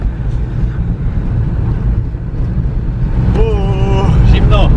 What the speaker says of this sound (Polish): Ale czekamy, aż się nagrzeje silnik,